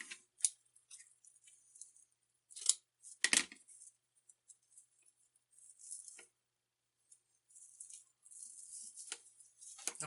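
Scissors snip through rose gold deco mesh for a Christmas wreath in short, scattered bursts of crisp cutting and rustling, with one louder snap and quiet gaps between.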